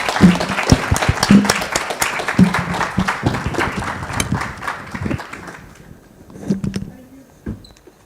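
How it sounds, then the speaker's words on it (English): Conference audience applauding panelists as they take their seats, a dense burst of many hands clapping that thins out and fades toward the end, with a few scattered claps trailing. "More applause, please, as they sit down"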